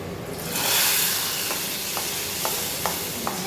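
Fried chillies in hot oil poured into a curry, setting off a loud burst of sizzling that swells and then settles into a steady crackle, with a few sharp stirring clicks toward the end.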